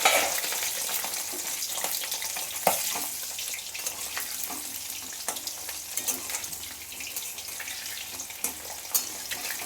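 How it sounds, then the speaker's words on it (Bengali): Potatoes fry in a pan in a home kitchen, browning after being covered to soften, with a steady close sizzle and crackle, occasional louder pops and spatters, and a clink of utensils near the start. "আলুটা ভাজছি ভালো করে। আলুটা বেশ লাল লাল করে ভাজা হবে"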